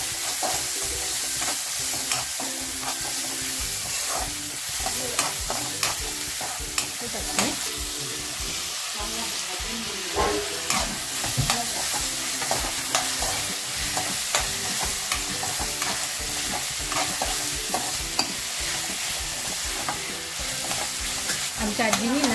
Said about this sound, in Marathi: तर अगोदर कांदा टाकते.